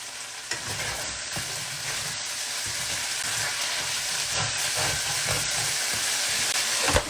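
Kung pao chicken is stir-fried with a wooden spatula, a loud, busy sizzle with continuous scraping and tossing that builds toward the end, no talking.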